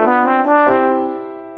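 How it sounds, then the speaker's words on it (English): Trombone note in a Mickey Mouse Clubhouse musical maze game: a single sustained brassy tone that bends slightly in pitch, loud and close, ending with a sharp click. "A trombone sounds like this"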